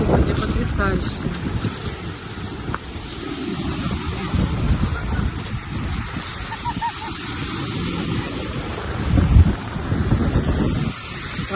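Sea waves wash onto a Crimean beach under heavy wind buffeting the microphone, a loud, continuous rumble with surges of surf.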